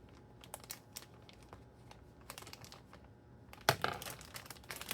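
A plastic piping bag being filled and handled, with scattered soft crinkles and taps, then a sharper burst of rustling and crumpling, close but quiet, no talking.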